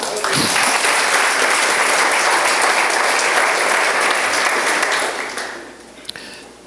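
A church congregation breaks into loud, full applause during a sermon, the sustained clapping filling about five seconds before tapering away into quiet.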